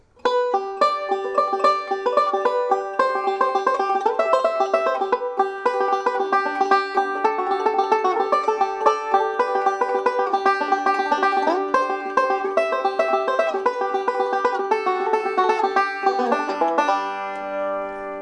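Bright banjo picking in two-finger chord shapes runs continuously in quick, rolling patterns across shifting chords, close and lively, ending with a ringing final strum.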